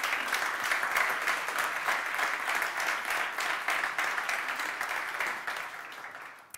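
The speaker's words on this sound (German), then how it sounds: "gebt mal einen ganz großen Applaus ans Team Education" Sustained applause from an audience at a startup accelerator demo day, steady and dense clapping throughout that slowly fades toward the end, with no voices over it.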